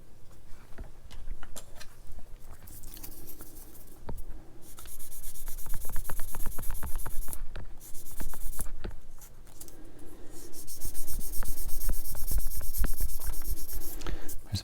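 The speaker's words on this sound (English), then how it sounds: "So be careful when you're sanding, no push." Steady scratchy rubbing of a sander against hard plastic parts of a Tamiya 1/24 Ferrari LaFerrari model kit, continuous and close, swelling louder in bursts with brief pauses between strokes.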